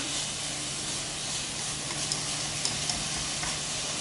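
Bulgogi beef with mushrooms and vegetables is stir-fried in a pan, giving a steady, moderate sizzle with faint scraping ticks near the end and no talk.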